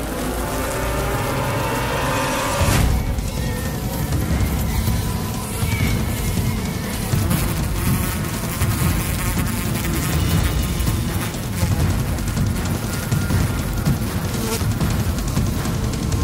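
A dense swarm of honeybees buzzes loudly and continuously while attacking a giant hornet, the droning intensifying sharply after a few seconds.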